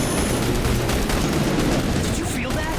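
Turret gunfire in The Bureau: XCOM Declassified, a dense steady stream of rapid shots and booms filling the whole stretch, with a loud battle din throughout.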